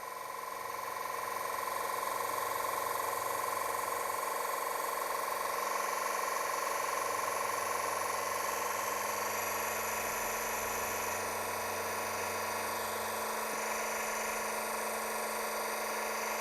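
A VEVOR 5-ton hydraulic jack with a built-in air pump running as it raises, a steady electric motor whine with a constant tonal hum, fairly quiet and even throughout. No one talks over it.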